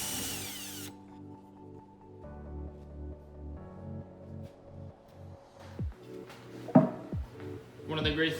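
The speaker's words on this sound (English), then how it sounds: "So we're now drilling a hole in between the bottom" A power drill bores a hole for low-voltage i lighting LED strips, its motor whining in sustained bursts that change pitch as it bites, followed by clattering handling noises, with someone talking over it.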